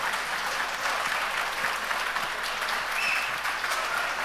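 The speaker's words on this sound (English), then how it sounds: "A big round of applause, ladies and gentlemen, for Mr. Narayanan" At the IAA IndIAA Awards 2019 ceremony an audience applauds after a speech, a continuous wash of clapping at moderate distance that holds evenly throughout without any talk.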